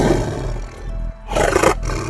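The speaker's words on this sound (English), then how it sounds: "The snarl alone will allow the predator to paralyze any animal that can hear it." A tiger snarls and roars loudly up close in two harsh, throaty bursts separated by a brief pause.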